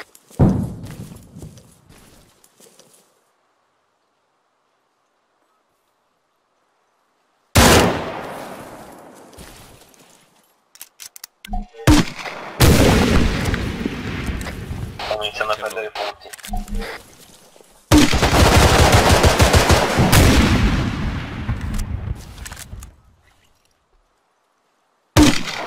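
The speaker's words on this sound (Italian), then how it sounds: "Ok, granata fuori." Gunfire and a grenade explosion in an Arma 3 PvP match, with loud bursts of shots and blasts separated by quiet gaps, a heavy roaring burst near the end, and players talking in between.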